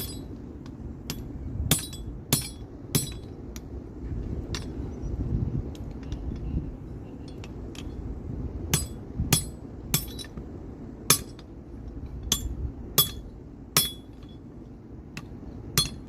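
Hammering a metal chain link closed, sharp ringing metallic strikes at irregular intervals, roughly a dozen and a half close blows over a low background rumble, no talking.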